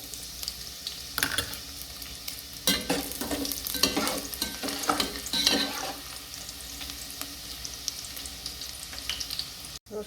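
Garlic frying for fried rice sizzles steadily and close, with bursts of scraping stirring through the middle before the sound settles to an even hiss, no talking.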